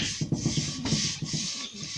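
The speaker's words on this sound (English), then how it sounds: "The only posh thing I've done is run the sander over the top," A sander rubs back and forth across the top of a kitchen panel in a rhythmic, close scratchy rasp with regular strokes.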